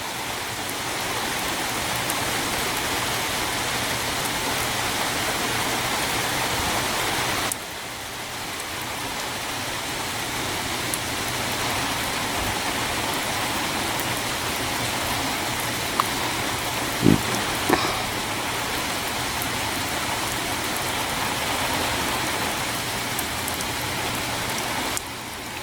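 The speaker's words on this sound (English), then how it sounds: "It's really raining." Rain falling steadily at the back end of a storm, a dense continuous hiss of drops on surfaces that dips slightly early on and carries a few faint knocks, with no talking.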